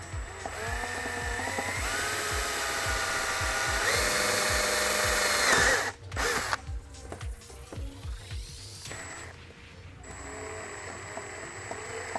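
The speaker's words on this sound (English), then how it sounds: "I'm actually using a larger drill" Steady whine of a power drill with a larger bit running continuously for several seconds while drilling holes on a 2003-2006 Honda CBR 600RR motorcycle, then cutting out, followed by scattered clatter and handling noises.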